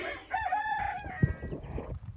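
A rooster crows once, a drawn-out call rising and then falling, with clucks and scuffling from other farm birds nearby.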